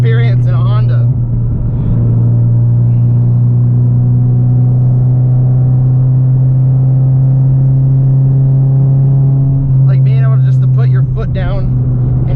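A 9th gen Honda Civic Si engine drones loudly from inside the cabin, holding a steady, strong hum under hard throttle, with someone talking briefly at the start and again near the end.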